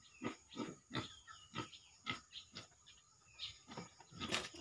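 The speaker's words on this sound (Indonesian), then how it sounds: "Ini babinya lagi makan." A small young pig in a pen on a Dayak farm, eating from a bowl of feed, gives a steady run of short, close grunts roughly every half second, with faint bird chirps in the background.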